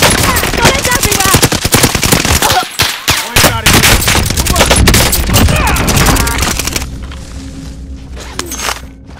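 Gunfire from the video game Call of Duty Warzone: dense, rapid automatic bursts and scattered shots close and loud for most of the span, thinning to a few isolated pops near the end.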